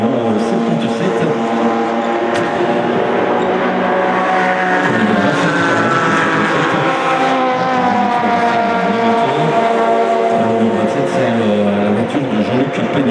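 Class F race car number 77 lapping Spa-Francorchamps during an endurance race, its engine screaming loudly and steadily as it climbs through the gears, with a commentator's voice running over it.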